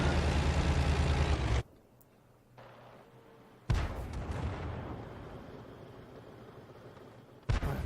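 Tank cannon shots in a tank video game, heavy booming blasts followed by a rumbling decay, one fired at the start, another mid-clip and a third beginning at the end, with engine rumble between.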